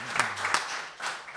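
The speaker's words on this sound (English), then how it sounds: "Should we give Kat a round of applause?" Brief applause from a small audience at a Holyrood Sources Islands Tour event in Kirkwall, a short patter of clapping with a few louder claps, fairly near and fading toward the end.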